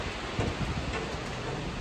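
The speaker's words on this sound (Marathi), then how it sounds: "चांगलाच पाऊस सुरू झालेला आहे" Steady heavy rain pours down in a dense, continuous hiss, close and loud throughout, with no voices.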